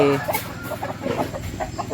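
A country-breed rooster in a farm garden clucks in a quick series of short, close calls, heard alone with no voices over it.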